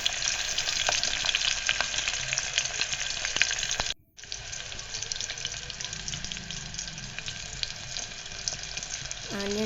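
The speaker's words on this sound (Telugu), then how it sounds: "తర్వాత ఇప్పుడు ఆనియన్స్ వేస్తున్నాను" Finely chopped onions frying in a pan for mutton keema curry, a dense continuous sizzle close by, briefly cut off near the middle before resuming.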